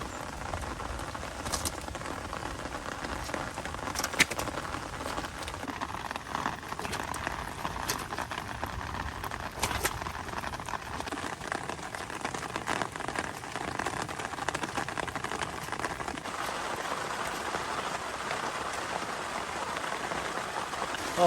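Heavy rain pours down steadily in a forest, a dense, continuous hiss of drops pattering on leaves and ground throughout, loud and unbroken with no speech over it.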